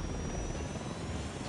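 A helicopter's rotor and engine drone steadily in a military video game, a faint continuous whir with no voices.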